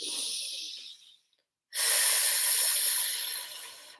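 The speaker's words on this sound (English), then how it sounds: "I would inhale here." A person inhales deeply through the nose during a breathing exercise with a strap around the ribs, heard up close as a long, loud airy hiss after a brief quiet pause, with no talking.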